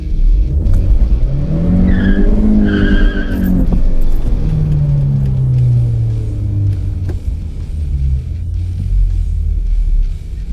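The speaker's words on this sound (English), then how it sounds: "All right, gonna do a burnout." A 2017 Honda Civic Hatchback Sport engine revs hard during a burnout, with loud rising and falling engine tones and a rough, skidding tire rumble up close.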